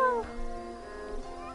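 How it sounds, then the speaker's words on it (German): Meowing from a pet cat in the game The Path, a clear drawn-out call with a falling pitch at the start and a softer cry later, with faint background music and no talk. "Da ist meine Katze."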